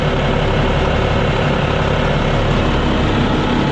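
Twin Volvo diesel engines on a 2000 Pursuit 3400 Fisherman boat drone steadily inside the engine room, a loud, unbroken low rumble with a dense broadband roar and no pauses or voices.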